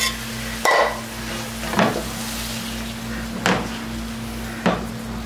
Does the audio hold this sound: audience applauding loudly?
no